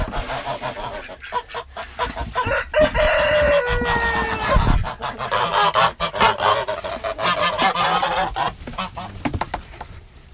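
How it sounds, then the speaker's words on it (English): Loud, dense chorus of geese honking and Black Orpington chickens clucking and crowing on a farm, continuous and close, with overlapping calls throughout. "in here we have got the geese, we have got the ducks, and we have got the Black Orpington chickens"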